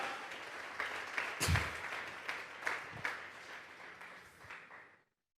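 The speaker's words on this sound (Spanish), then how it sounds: "Vamos a regalarle ofrenda de palmas al Dios de la gloria." Applause from a Sunday church congregation, a moderate spread of clapping with a few louder bursts that fades out near the end.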